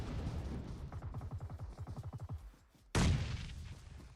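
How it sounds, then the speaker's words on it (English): Grenade blasts and gunfire in PUBG Mobile during an esports qualifier match: a fast rattling burst of shots, a brief lull, then a single loud, close explosion. "currently in a nade battle."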